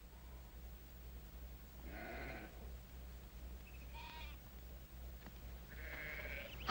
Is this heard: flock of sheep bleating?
yes